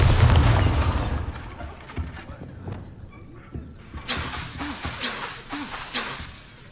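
The Bombarda blasting spell in the Hogwarts Legacy video game sets off a loud booming explosion right at the start, then fades into rumbling debris and scattered mechanical clatter, with a voice speaking.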